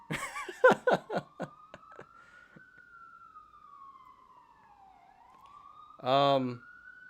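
An ambulance siren passes by, its wailing tone rising and falling steadily at a moderate distance, with sharp clattering knocks at the start and a brief loud buzzy burst near the end.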